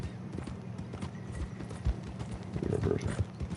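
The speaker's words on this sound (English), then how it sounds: "Is this horse still hungry?" Horse hooves clip-clop at a steady walking rhythm in Red Dead Redemption 2, close and distinct, with a few heavier thuds and a soft snort over low game ambience.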